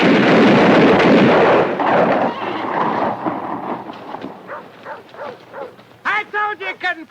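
A rifle volley rings out on command in a western film, a dense burst of gunfire booming and echoing first, then fading into scattered rumbles, followed by voices calling out.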